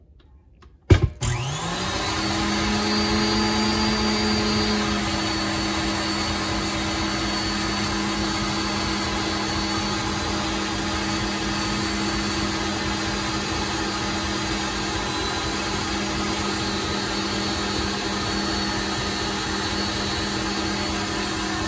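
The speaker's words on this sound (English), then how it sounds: "so we're gonna mix it for a little bit more." Electric mixer whipping cream toward peaks, starting with a click and then running as a loud, steady, continuous whine close by, with no talk.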